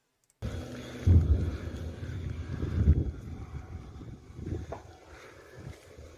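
A knocked-out Russian T-80BV tank's engine keeps churning, a low rumbling drone with wind buffeting the microphone, swelling in rough surges over about six seconds.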